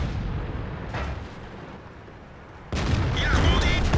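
World of Tanks battle with muffled heavy cannon booms and rumbling impacts, followed by a sudden louder blast partway through, with game noise continuing behind.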